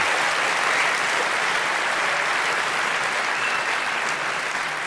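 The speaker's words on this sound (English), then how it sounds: "Give him another great round of applause." Sustained applause from a theatre audience before a Dutch film premiere, a dense, steady wash of many hands clapping throughout at even loudness.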